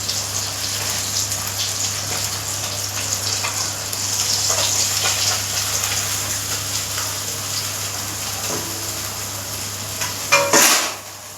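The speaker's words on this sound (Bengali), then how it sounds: "মাছটা ভাজছি, ভাজা প্রায় হয়ে গেছে," Fish fries in a pan in a home kitchen, giving a continuous faint crackling sizzle under a steady background hum, with a sharper clatter of cookware near the end and no voices.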